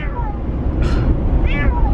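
A pet cat meows close by, twice, with a short gap between the cries, over a loud, steady background rumble.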